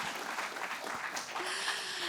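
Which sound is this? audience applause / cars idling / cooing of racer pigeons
audience applause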